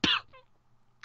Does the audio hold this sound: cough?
yes